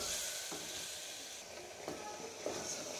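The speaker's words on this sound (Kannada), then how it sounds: "ಇದನ್ನು ಈ ರೀತಿ ಇದು ಆಯಿಲ್ ಬಿಡೋ ತನಕನೂ ನೀಟಾಗಿ ಫ್ರೈ ಮಾಡ್ಕೊಬೇಕು." Spice paste frying in hot oil makes a quiet, continuous sizzling hiss, broken by a few soft stirring scrapes and clicks in the pan, heard alone without talk.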